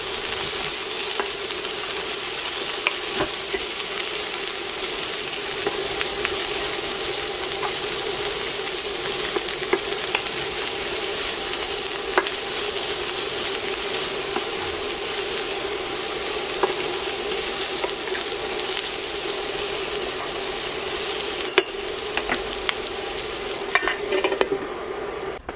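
Vegetables sizzle steadily in a skillet, seasoned with onion powder, black pepper, smoked paprika and garlic, a dense continuous fry with occasional stirring scrapes, close and unbroken throughout.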